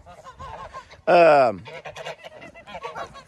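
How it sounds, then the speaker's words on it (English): A goose gives one loud, close honk lasting about half a second, set among a steady background of softer goose and bird calls outdoors, with a brief spoken word. "these geese really have a way of messing up my videos"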